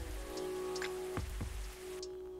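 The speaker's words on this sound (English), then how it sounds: "It's just raining all the freaking time." Steady rainfall in the video game Coffee Talk, a dense continuous patter with a low hum beneath it, broken by a couple of soft thumps before the rain thins near the end.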